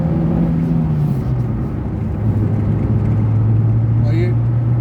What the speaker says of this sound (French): à petite accélération sortie du rond-point